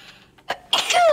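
A single sharp sneeze bursts out close to the microphone after a brief intake of breath, followed by a short high-pitched squeaky tail.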